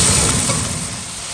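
Potatoes tipped into a hot pan of oil with paprika and turmeric for an okra and potato curry, giving a steady broadband sizzle that starts loud and fades slightly over a second or so, with no talk.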